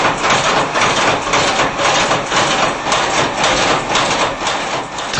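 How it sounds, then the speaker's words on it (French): A heavy industrial press starting up under a thick steel plate, giving a loud, dense, continuous clatter like large castanets with a steady low rumble beneath, sustained throughout. "La presse démarre dans un bruit de grosses castagnettes."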